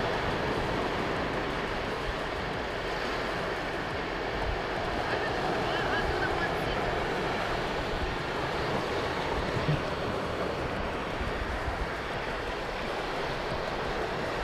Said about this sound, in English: There's a little bit of wind